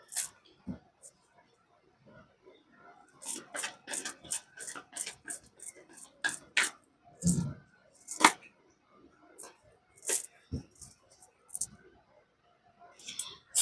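Tarot cards are handled and shuffled, giving scattered close taps and papery flicks in uneven bursts with quiet gaps between them.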